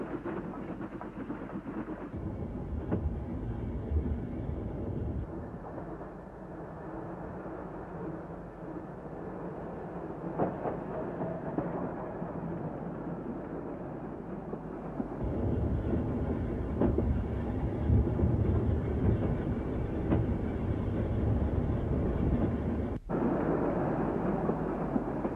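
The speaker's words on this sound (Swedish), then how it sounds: "Ett tåg rullar över Bogeviken, eller Sju strömmar, draget av Slitehamn Roma, järnvägslok nummer 3 Dalhem" A Gotland railway train drawn by steam locomotive no. 3 Dalhem rolls over Bogeviken, giving a continuous low rumble and clatter that grows louder partway through, with no voices.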